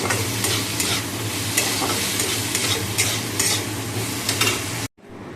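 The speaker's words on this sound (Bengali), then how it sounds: "ঢেঁড়স ভাজা বসিয়ে দিয়েছি" Sliced okra sizzling and crackling steadily in a frying pan at close range, with occasional stirring scrapes, broken by a sudden brief drop to near silence just before the end.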